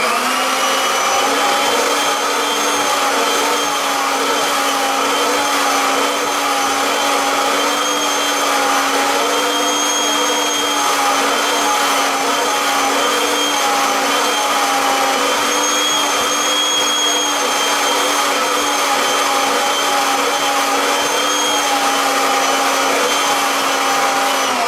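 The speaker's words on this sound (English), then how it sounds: "So we use our pet groomer" A Kirby vacuum cleaner fitted with its pet groomer tool runs steadily, giving a loud, continuous whining drone with no pauses for the whole stretch.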